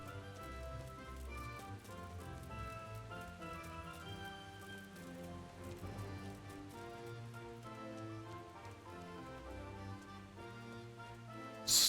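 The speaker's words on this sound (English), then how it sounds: "Standing out here in the rain." Steady rain falls in the medieval world of the video game Kingdom Come: Deliverance, a continuous patter that runs the whole stretch beneath a layered tonal background score.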